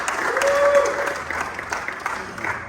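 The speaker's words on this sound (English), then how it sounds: "round of applause for that" A crowd at a memorial service claps steadily in a dense, continuous round of applause that fades slightly toward the end, with voices mixed in.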